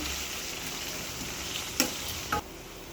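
Cumin, onion, green chilli and curry leaves sizzle steadily in a hot pan for upma, a close continuous frying hiss broken by two brief sharp clinks of a utensil.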